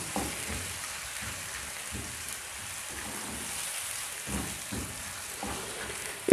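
Large chopped onion browning in melted butter for dal tadka, a steady crackling sizzle with soft popping spatters throughout, close and continuous.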